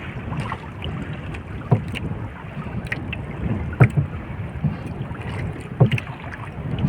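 Strong wind buffets the microphone in a constant rushing roar, with occasional louder gusts and thumps and no talking.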